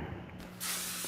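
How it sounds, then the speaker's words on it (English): Spray can hissing onto car bolts during suspension work in the video game Car Mechanic Simulator 2021, a short steady spray burst that swells louder partway through over a low hum, with no voices. "And spray these bolts off."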